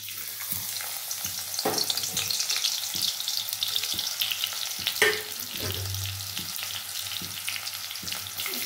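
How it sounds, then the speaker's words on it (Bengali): Chopped garlic sizzling in hot oil for a home-style coriander chicken, a steady bright crackle with stirring scrapes and occasional louder pops and clatters, close and alone. "চলো তেলটা আমার হয়ে গেছে, দিয়ে দেবো রসুন কুচি।"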